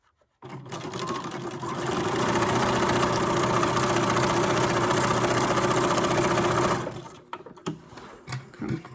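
A sewing machine stitches on paper, running at a steady close-up whir for several seconds before slowing and stopping, followed by a few small handling clicks.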